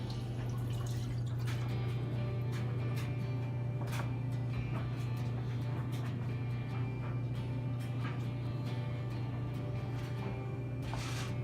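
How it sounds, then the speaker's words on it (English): Vinegar, a full cup, poured into a saucepan with sugar and dry seasonings for pear relish, giving a steady liquid trickle with small drips and splashes over a constant low hum, close by and with no talking. "So you put your cup of vinegar"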